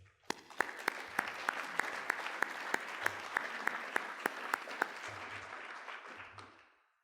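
An awards-ceremony audience applauds as a presenter comes on stage, a warm, sustained clapping with a few sharp, close claps, fading out after about seven seconds.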